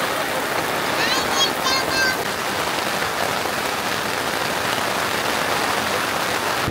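November rain falls steadily on open fields in Bangladesh, a dense even hiss of drops close around, with a brief faint chirpy sound early on and no clear talk.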